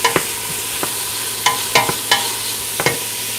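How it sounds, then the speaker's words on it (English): Vegetables sizzling in a hot pan, a steady crackling hiss broken by several sharp clicks and scrapes as a utensil stirs them. "The veggies are sizzling."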